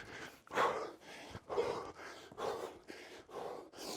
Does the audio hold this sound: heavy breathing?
yes